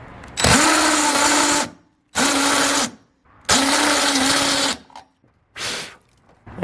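Power tool bought at Harbor Freight hogging out a hole in a plastic piece during a Nissan 350Z coilover install, whirring loudly in three long bursts and a shorter fourth, each spinning up and cutting off.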